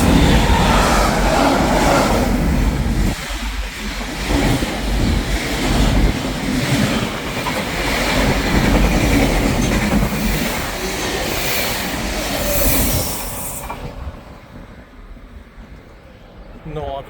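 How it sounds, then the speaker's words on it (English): A cargo train rolls through a small rural railway station at Auli, Norway, its loud rumbling and rattling wagons filling the scene for several seconds before the noise cuts away; a voice speaks briefly over it. "No, apparently it's a cargo train."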